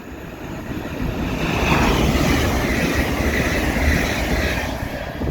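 A train passes through Peterborough station, its rumbling roar swelling and holding loud and close before easing away, with faint rail clatter and no talk.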